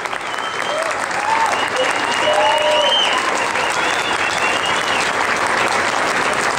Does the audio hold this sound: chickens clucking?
no